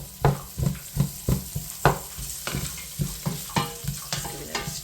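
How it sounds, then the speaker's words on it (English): Onions frying in a pan for a South African Durban curry, a steady sizzle broken by regular scraping knocks as a utensil breaks them up, about a dozen strokes, close by. "Just breaking up the onions."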